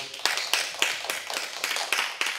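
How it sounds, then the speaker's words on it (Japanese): Scattered audience clapping at a disaster-preparedness lecture in Japan, a thin, uneven patter of hands with repeated sharper claps, moderately quiet and heard without talk. "拍手お願いします"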